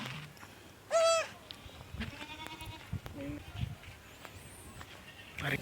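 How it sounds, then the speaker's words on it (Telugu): Goats bleat nearby in a remote forest village, one loud wavering cry early on followed by softer calls, with faint voices and other background sounds in between. "మేకలు అయితే చాలా ఎక్కువగా ఉన్నాయి"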